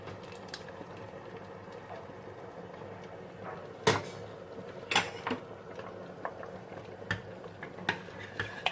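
Harira, a Moroccan soup with beaten egg added, being stirred in a pot as it thickens: a low steady simmer with scattered clinks and scrapes of a utensil against the pan, quiet and close.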